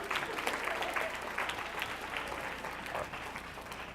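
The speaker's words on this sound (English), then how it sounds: "Give her a nice round of applause." An audience at a workforce summit applauds a volunteer, a sustained, even wash of clapping from many hands at moderate volume with faint crowd murmur underneath.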